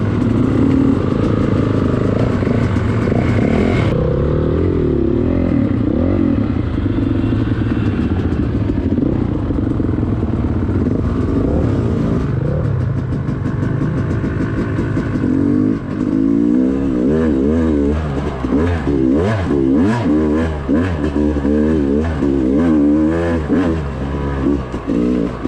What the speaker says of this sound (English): you folks can just enjoy the sweet music of the YZ